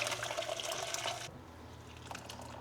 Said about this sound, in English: So I'm gonna go ahead and strain it into here.